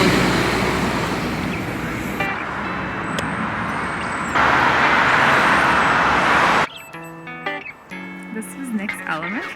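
Busy city traffic in New Belgrade, with buses and taxis passing: a loud continuous road rumble and engine wash, then a quieter stretch near the end, with people talking over it.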